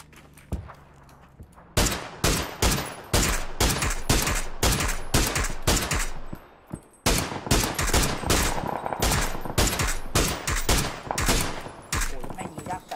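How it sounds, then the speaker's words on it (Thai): Rapid bursts of gunfire from the PUBG battle royale game crack out in dense volleys, loud and close, with brief pauses between strings of shots and voices talking over the action. "ยิงนะแซน"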